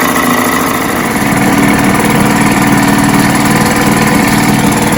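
A Mercury 3.9 outboard kicker motor idles steadily and continuously at close range, a dense, even mechanical drone with no speech.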